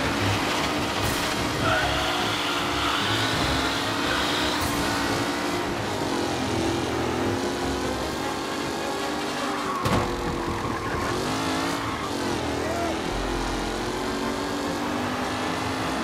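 Race cars speeding through a race in Mafia: Definitive Edition, a continuous loud roar of engines with shifting pitch as cars accelerate and pass, steady throughout with no talk.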